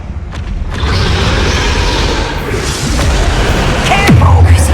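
A Confringo fire spell bursts in Hogwarts Legacy during a boss fight, a loud booming blast with rumbling low end that holds for several seconds, ending in a swooping tone, with game voices underneath.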